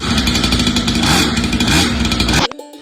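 A petrol motorcycle engine runs loud and close with a steady, dense roar, then cuts off sharply near the end, leaving only faint clicks and rattles.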